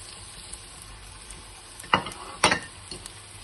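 Chopped green and red peppers fry with onion in a pan, giving a soft continuous sizzle broken by two sharp utensil scrapes and clinks as the mix is stirred, close by with no voices.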